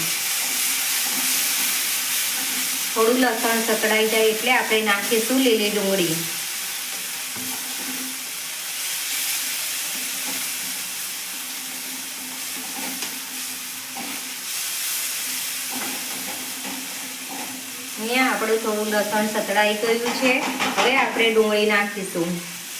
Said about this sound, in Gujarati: તમે જોઈ શકો છો આપણે આવી રીતે જ વઘાર કરવાનો છે